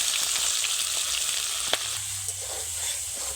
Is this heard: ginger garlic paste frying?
yes